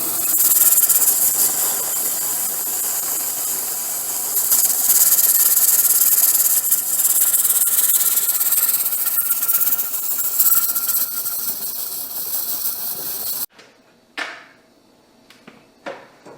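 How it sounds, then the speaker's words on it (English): Steam hisses steadily from the vent of a pressure canner while chili beans are being canned, a loud continuous hiss lasting about thirteen seconds before cutting off abruptly, followed by a few faint clicks and knocks. "there is steam escaping from my vent, so I've got my timer set to 10 minutes"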